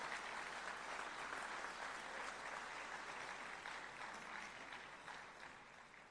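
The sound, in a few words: audience applause at fire department awards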